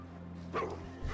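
Neighbors' dogs bark in the background behind steady low game music, a couple of short distant yips and woofs within about a second.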